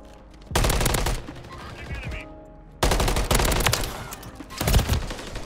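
Automatic gunfire in the game Call of Duty MW3, with loud, dense bursts in two long stretches separated by a short quieter gap, plus a final sharp burst.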